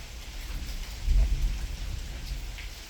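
Steady heavy rain during an Arkansas thunderstorm, with a deep rumble of thunder swelling midway and fading back into the constant downpour, no voices.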